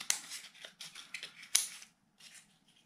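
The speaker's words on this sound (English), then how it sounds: "we use a little scissor, and then we just cut" Little scissors snip through a cardboard egg carton during a kids' craft, giving short crisp cuts in quick bursts with brief pauses between them, close and fairly quiet.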